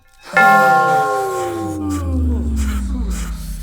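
Temple bells struck loudly all at once in a house turned temple, a bright metallic clang whose long ringing tones slowly fade and overlap.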